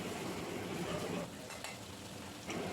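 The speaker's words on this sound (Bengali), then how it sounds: "এই পেঁয়াজ পেস্টটা একটু তেলের মধ্যে নেড়ে চেড়ে নেব" Onion paste stirred and frying in hot oil for a homemade chilli chicken, a steady close sizzle with scraping stir strokes and a brief quieter lull midway.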